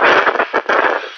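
Crackling static bursts from personal electronics during a lightning storm, harsh and noisy, surging and cutting out in uneven pulses over about a second, with no speech.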